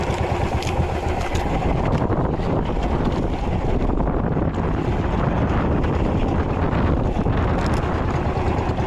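Strong wind at sea roars steadily and loudly against the microphone, a dense rushing buffet mixed with the churn of water around a boat, with no speech.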